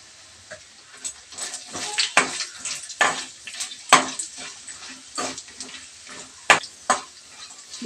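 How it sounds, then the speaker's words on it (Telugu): Mustard seeds with garlic, dried red chillies, urad dal and chana dal frying in hot oil for a tempering, giving close, irregular crackles and sharp pops over a soft sizzle. "ఆవాలు వేస్తున్నానండి."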